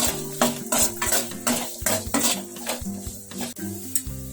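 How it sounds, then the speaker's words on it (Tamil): Ginger and tamarind frying in oil for a ginger pickle, a soft sizzle under repeated clinks and scrapes of a utensil against the pan, close by, with a faint tonal hum in the background and no talking. "இதுவும் நல்லா எண்ணெயில வெந்து வரட்டும்."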